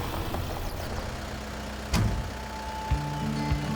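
A tractor engine idles while warming up, a steady low rumble close by with a couple of brief knocks or clunks over it.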